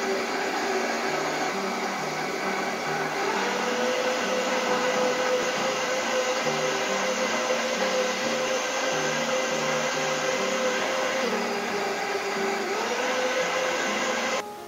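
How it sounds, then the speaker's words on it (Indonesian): Kitchen blender running steadily on corn puréed with liquid for a cream soup, a loud continuous motor whir that shifts pitch slightly partway through and again near the end, alone without talk. "Kita akan memblender, ya, jagung dengan liquid tadi."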